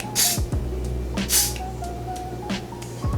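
Hairspray sprayed onto hair during a blow-dry styling session: broad hissing bursts, a strong one near the start and another about a second later, over a steady hair-dryer hum, close and fairly loud.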